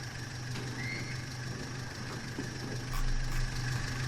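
Vehicle engine idling in the Farming Simulator 19 game, a steady low hum with a rough mid-range drone, briefly swelling louder toward the end, no talk.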